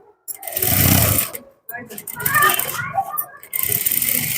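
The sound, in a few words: sewing machine stitching a blouse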